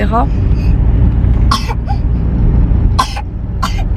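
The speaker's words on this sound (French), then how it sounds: "elle vient de se réveiller, elle tousse" Several sharp coughs from a woman who has just woken up break out close by, spaced apart, over a low rumbling background with voices mixed in.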